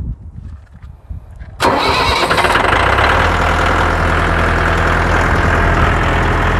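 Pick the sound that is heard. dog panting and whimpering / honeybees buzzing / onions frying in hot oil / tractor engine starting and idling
tractor engine starting and idling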